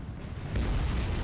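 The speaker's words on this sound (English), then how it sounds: "Magazine explosion." A ship's magazine blows up in the naval video game War on the Sea, a heavy, rumbling explosion that swells into a loud, sustained boom.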